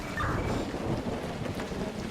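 Rain and thunder ambience in the video game Emergency 4, a steady loud wash of rainfall with low rumbling throughout, continuous and without talking.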